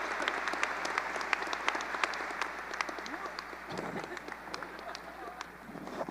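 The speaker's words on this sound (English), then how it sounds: "please give a well-deserved round of applause for Mr. Matthew Krupa, the faculty speaker for the class of 2024" A graduation crowd claps for the faculty speaker at a high school commencement, a dense, fairly distant wave of applause with scattered louder claps and a faint crowd murmur underneath.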